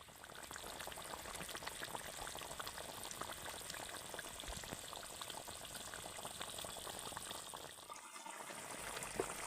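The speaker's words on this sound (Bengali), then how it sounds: "ঝোলের মধ্যে কিন্তু কোপ্তাগুলোকে একটু ফুটিয়ে নিতে হবে" Jackfruit kofta curry bubbling gently in its gravy, a soft continuous simmer with fine crackling and bubbling throughout, fairly quiet and heard alone.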